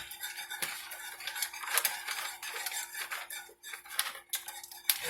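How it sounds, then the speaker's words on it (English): Shredded cheese being stirred into a sauce in a pan for broccoli cheese sauce, close irregular scrapes and clinks of a utensil against the pan, with no talking. "as you're adding your cheese, you want to be stirring"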